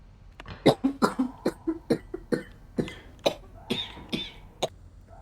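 Repeated coughing and throat clearing, about a dozen sharp bursts in an uneven rhythm over five seconds, close and fairly loud, heard during an escape-room game session with no talk over it.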